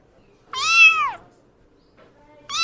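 A cat gives one clear, high, rising-then-falling meow at close range, and a second meow starts at the very end, with quiet background and no talking.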